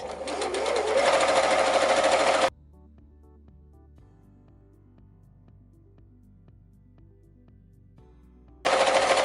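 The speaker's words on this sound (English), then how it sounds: "Your feed dogs, which are the rough pieces underneath your presser foot, will be moving the fabric through for you" Close, loud electric sewing machine stitching fabric for an infinity scarf, running in a rapid steady burst at the start, stopping for several quiet seconds, then starting up again at the end.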